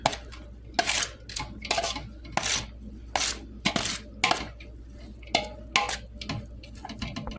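Utensil scraping and clinking against a bowl while chopped onions and peppers are stirred into a rice salad, a string of irregular, fairly close clattery strokes with short pauses between them.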